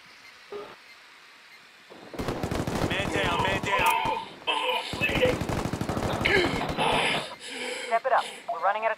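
Bursts of gunfire from the video game Ghost Recon Wildlands, dense automatic fire and overlapping shots going on for several seconds, loud and close, while players talk over the shooting.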